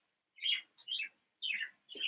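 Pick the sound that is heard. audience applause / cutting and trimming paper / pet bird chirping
pet bird chirping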